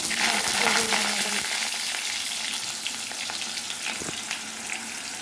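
Potatoes frying in hot oil for a homemade chicken biryani, a steady dense sizzle close by with occasional soft stirring taps, no talking.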